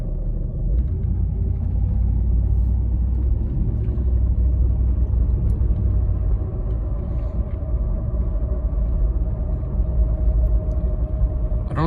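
A Mercedes SL500 with over 300,000 miles, abandoned for more than seven years, is driven with a steady low road rumble. A faint whirling tone rises within it, continuous and without talk.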